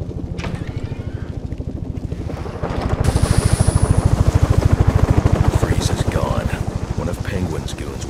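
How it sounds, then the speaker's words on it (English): Helicopter flying in Batman Arkham Origins, a loud rapid rotor thump that swells and holds steady for several seconds amid wind and game noise. "Chopper's going."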